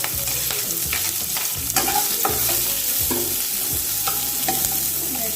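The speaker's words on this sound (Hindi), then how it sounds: "प्याज टी भाजी गला" Onions frying in a pan for a Sambalpuri idli fry dish, a continuous loud sizzle with regular scraping strokes of a spatula stirring throughout.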